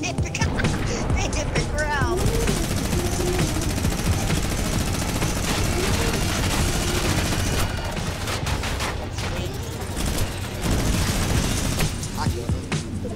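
Gunfire in the video game Fortnite crackles in dense bursts throughout, mixed with game noise and sharp reports, while people talk excitedly over it.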